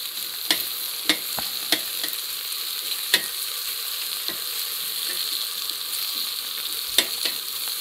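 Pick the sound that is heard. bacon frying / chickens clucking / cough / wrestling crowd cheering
bacon frying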